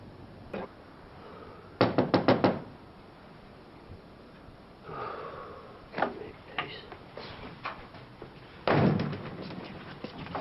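Knuckles rap on a front door in a television soap drama scene: a quick cluster of four sharp knocks, then scattered thuds and a second burst of rapid knocks, all fairly close and loud against a quiet room.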